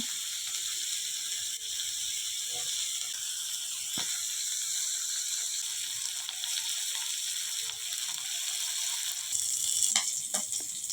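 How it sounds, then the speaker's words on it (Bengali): Prawns crackle and sizzle in hot oil in a wok, a continuous hiss broken by sharp spatters and scraping clicks. "সেই কড়াইতে দিয়ে দিচ্ছি চিংড়ি মাছ। চিংড়ি মাছগুলোকেও ভেজে নেব।"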